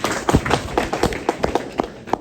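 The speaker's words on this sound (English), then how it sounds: "we should take a minute to applaud that" Scattered hand claps and taps from a small audience at an awareness program, short uneven bursts of clapping rather than a full ovation.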